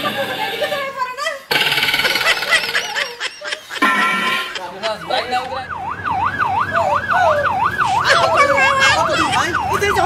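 An ambulance siren wails in a steady rising and falling cycle through the second half, loud and close, after a stretch of lively talk and laughter that continues over it.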